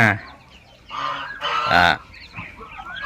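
Poultry on a Thai farm raising young chicks and ducklings, with loud honking goose-like calls and fowl cries close by, several overlapping bursts rising and falling, with faint voices in the background.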